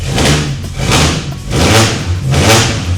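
A Ford fitted with a 2JZ engine and straight-pipe exhaust roars loudly and up close, surging in four rhythmic rev swells with no talking.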